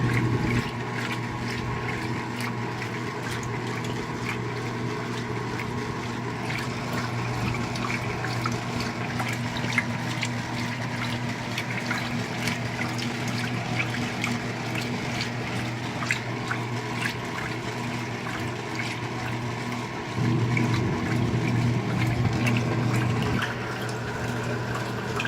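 A 2017 Speed Queen washing machine fills with water, a steady rushing flow with a low mechanical hum underneath, holding constant for the whole stretch and swelling slightly louder near the end.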